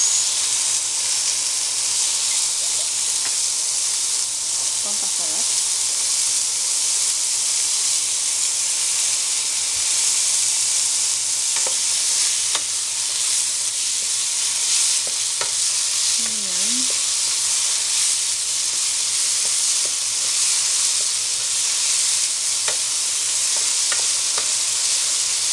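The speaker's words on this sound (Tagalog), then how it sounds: "Igigisa natin yung boksoy." Bok choy sautéing in a pan with salt and oyster sauce, a loud, even, hissing sizzle held steadily for over twenty seconds, with only faint scattered clicks and no talk.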